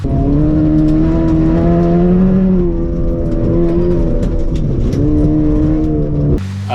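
Honda CRX rally car on a dirt course with a blown strut, running on just a spring on one side: a loud, continuous engine drone with shifting revs close by, ending in an abrupt cut.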